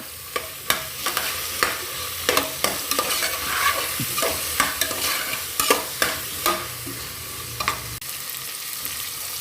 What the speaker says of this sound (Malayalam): കഴുകി വൃത്തിയാക്കി വെച്ച പരിപ്പൂടി ഇട്ട് കൊടുക്കാം ഒന്ന് മിക്സ് ചെയ്ത് കൊടുക്കാം